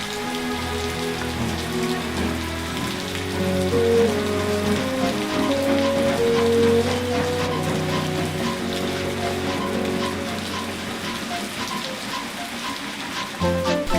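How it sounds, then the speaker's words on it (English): Steady rain patters continuously around a railway branch line, an even hiss of drops that holds throughout, with soft music playing underneath. "The rain still fell all around as Thomas crawled up the branch line."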